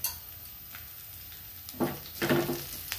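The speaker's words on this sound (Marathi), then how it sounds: "ब्राऊन होईपर्यंत हा लसूण भाजून घ्यायचा आहे।" Garlic frying in a pan until brown, a soft steady sizzle with a few louder stirring scrapes near the end, close and quiet with no talking.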